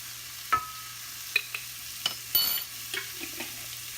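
Onions frying with salt until translucent, a close low sizzle broken by several sharp clacks and scrapes of a utensil stirring the pan.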